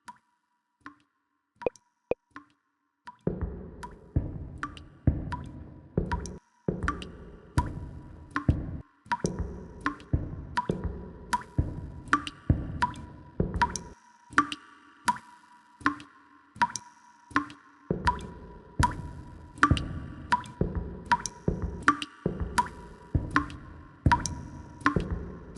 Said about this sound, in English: There's a pipe that's always leaking right above it. I guess I'll just have to walk towards the dripping sound.